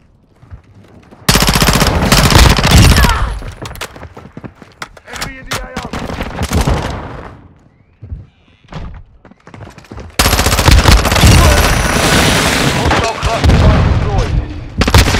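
Heavy automatic gunfire and booming blasts from the video game Call of Duty: Modern Warfare II, loud and sustained in two dense bursts with a sparser, choppier stretch of shots between them.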